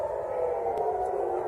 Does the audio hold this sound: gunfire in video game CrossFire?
no